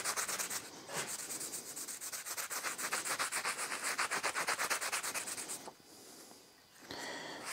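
Shirt cloth wet with lacquer thinner rubbed briskly over a white photo-etched tile, making rapid rhythmic scrubbing strokes up close, then a brief pause and a softer rub.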